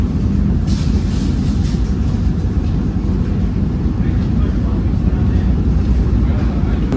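Interior rumble of the Gaya Baru Malam Selatan train running through Karawang station, a dense steady low roar of wheels on track with faint rattles, continuous and close throughout.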